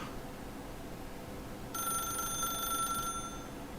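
Telephone ringing in The Stanley Parable: Ultra Deluxe, a single electronic ring burst of bright repeating tones lasting over a second, clear over a quiet background.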